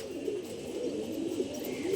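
Kaldom pigeons coo in a low, steady, rolling murmur that runs continuously and fairly close, with overlapping soft calls and no voices.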